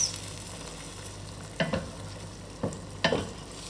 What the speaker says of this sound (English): And then we add the prawns and we let them cook during 10 minutes.